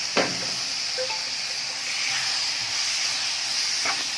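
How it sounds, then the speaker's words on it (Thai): Pork stir-frying with red curry paste and kaffir lime leaves in a pan gives a steady, continuous sizzling hiss throughout, with a couple of faint clinks. "เราก็ใส่หมูลงไปเลยค่ะ"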